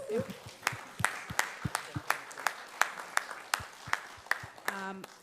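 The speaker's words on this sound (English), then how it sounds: "I want you to give them another round of applause." Sparse, sharp hand claps from a school debating competition audience ring out at an uneven pace beneath a person talking, sounding more like scattered clapping than a full wave of applause.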